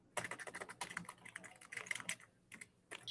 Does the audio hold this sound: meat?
no